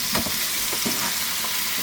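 Onion and peppers fry in a hot pan with a steady, crackling sizzle and a few soft stirring bumps, close and continuous with no voices.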